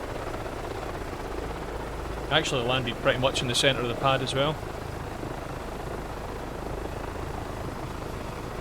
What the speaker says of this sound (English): Probably shut the helicopter down because it's very noisy.